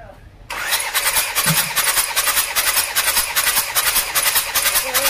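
A car engine turned over by its starter for a cylinder compression check on cylinder number four, a steady rapid chugging crank that starts abruptly after a short pause and continues loud and unbroken, with a voice briefly underneath.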